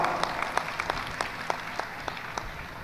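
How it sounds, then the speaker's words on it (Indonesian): Audience applause at a university religious lecture, a steady wash of many hands clapping with scattered sharper claps standing out, moderately loud and continuous without speech. "Tepuk tangan untuk kita semua."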